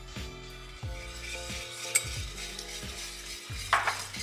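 Apple compote and sugar stirred together in a bowl while making gluten-free cookies: a steady, rhythmic scraping stir repeating about once a second, close and moderately loud, with a couple of brief utensil clinks.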